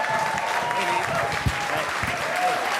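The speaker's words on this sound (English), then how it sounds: "Big round of applause for number 10." An audience applauds in a steady, dense patter of clapping, with voices faintly audible beneath it.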